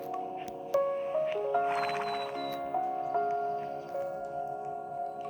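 A horse at a stable in a horse valley, heard through a few faint hoof knocks and soft snorting noises over a quiet tonal background hum, fairly distant and low in level.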